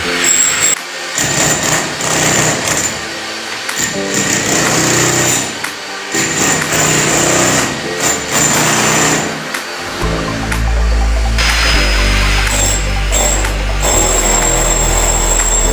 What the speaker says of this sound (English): One wall has to go. That is what Mohammed is doing